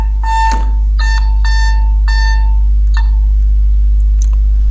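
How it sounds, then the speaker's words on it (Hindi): A phone rings with a series of short, loud electronic beeps in repeated bursts over a steady hum, with no voices. "एक मिनट जी, फोन आ गया।"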